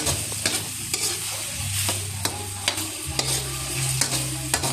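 Vegetables sizzle steadily in a frying pan while a utensil stirs them, sending sharp scraping clicks every half second or so. The sound is close and continuous, with no talking.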